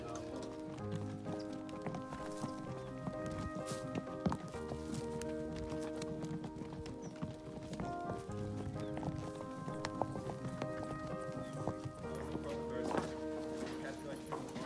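A horse walks on a trail ride at Kaapschehoop, its hooves clip-clopping steadily under a continuous layer of chatter and background noise.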